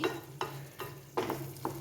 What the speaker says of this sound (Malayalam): ഇനി നമുക്കിത് നന്നായിട്ടൊന്ന് ഇളക്കി